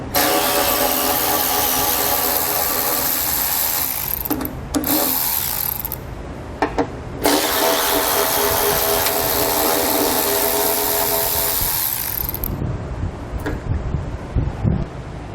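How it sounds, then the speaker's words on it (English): A power tool whines loud and close as it backs out 8mm head bolts on a 2017 Ford during a base plate install. It runs in long continuous stretches broken by brief stops, and no one speaks. "We're going to have 2 8mm head bolts to remove."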